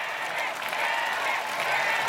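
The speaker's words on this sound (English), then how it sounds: "Ooh, you can hear it. Listen to the crowd, Matt." A crowd at American Ninja Warrior's Los Angeles finals cheers and applauds steadily, a dense wash of clapping and shouting that carries on throughout.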